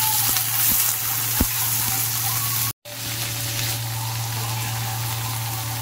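Chopped vegetables frying in a pan give a steady, close sizzling hiss with a constant low hum beneath, broken by a sharp momentary cut partway through.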